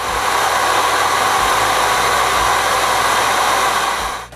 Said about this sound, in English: I sand the lighthouse.